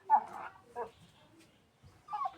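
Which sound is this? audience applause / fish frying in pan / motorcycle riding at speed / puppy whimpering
puppy whimpering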